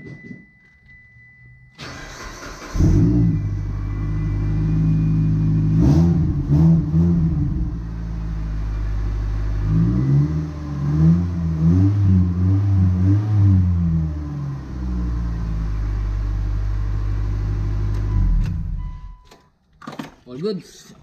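An old, long-idle car being test-started during a vehicle restoration in Manitoba, Canada: the engine catches after a brief crank and settles into a loud, steady idle with a few revs, while people talk nearby throughout.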